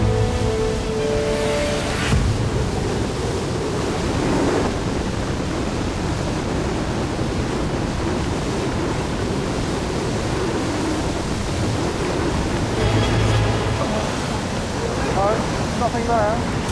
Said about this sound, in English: the huge surge that's pulling at our legs under the water